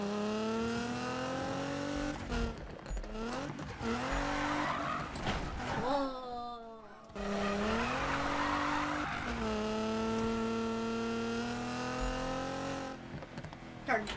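A car drifts in the Need for Speed racing game: the engine revs hard and rises and falls in pitch, with long tire squeals that fade and resume, loud and continuous for the whole stretch.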